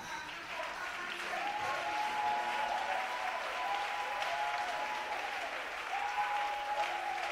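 Steady applause from a church congregation, dense and sustained clapping filling the room, with a faint sustained voice or tone running beneath it.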